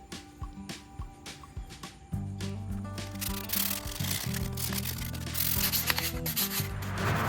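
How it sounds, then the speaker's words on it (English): Hand sanding of a small decorative wooden tea light candle holder: soft, scattered rubs at first, then steady, close, rhythmic abrasive strokes against the wood with no speech. "Once it's all dried, it's time to start sanding."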